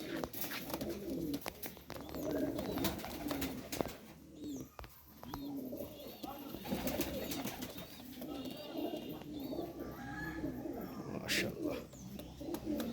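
A pair of Chatwala pigeons in a loft coo in repeated low, throaty phrases, fairly close and steady, with some faint chirps and background sounds throughout.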